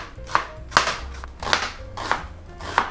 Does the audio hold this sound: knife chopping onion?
yes